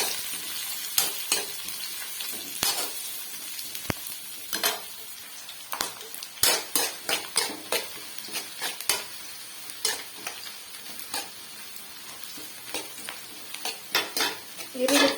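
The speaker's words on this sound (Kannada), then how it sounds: "ಈರುಳ್ಳಿ ಚೆನ್ನಾಗಿ ಫ್ರೈ ಆಗಲಿ." Onions frying in a pan for a Kannada home dish, a soft steady sizzle broken by frequent sharp scrapes and clinks of a spoon against the pan, close and fairly quiet, with no talking.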